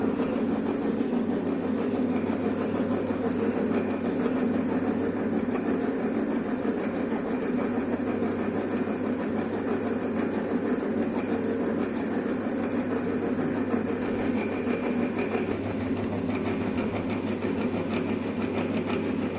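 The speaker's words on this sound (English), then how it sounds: "So this is a down milling operation." A milling machine doing down milling on a spur gear, with a steady, continuous mechanical drone and rattle that holds at an even level throughout, loud and close, with no voices.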